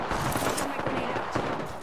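Rapid bursts of gunfire in a battle royale video game, fired continuously across the short stretch, loud, dense and close, with a faint voice underneath.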